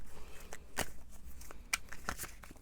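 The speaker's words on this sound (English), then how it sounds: "I'm going to shuffle a bit more about this person's personality." Tarot cards being shuffled by hand in a quiet room, a series of soft, quick riffling and slapping bursts spaced irregularly, close and fairly faint.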